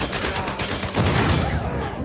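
Rapid automatic weapon fire in an Uncharted video game car chase: dense, continuous loud bursts overlapping each other for about two seconds, with a voice faintly underneath.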